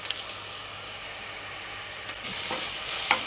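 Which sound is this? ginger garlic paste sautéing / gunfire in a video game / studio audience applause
ginger garlic paste sautéing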